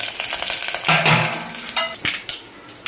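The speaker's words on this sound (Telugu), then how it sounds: "చివరిలో కరివేపాకు కూడా వేస్తున్నాం" Curry leaves dropped into hot tempering oil give a sudden sharp sizzle, followed by stirring clatter of a spoon against the pan, close and loud, no talking.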